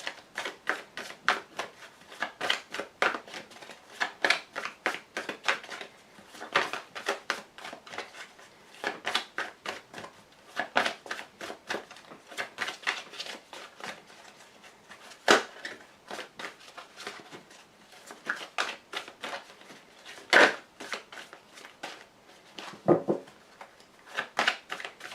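Tarot cards being shuffled by hand in a long run of quick, crisp riffling bursts, close and fairly quiet, broken by short pauses and a couple of sharper taps, with no talk.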